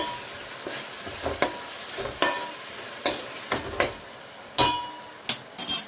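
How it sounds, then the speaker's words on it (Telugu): Goat mutton fries in hot oil for a curry, a soft steady sizzle broken by about a dozen sharp, irregular metal clinks as a utensil stirs the pan up close. "ఇలాగా ఇది కూడా నూనెలో మగ్గనివ్వాలి."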